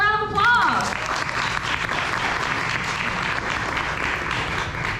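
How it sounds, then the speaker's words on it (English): An audience at an indoor fashion panel applauds steadily, a dense wash of clapping from a sizable crowd that holds for several seconds after a brief tonal cue at the start. "So let's give them another round of applause."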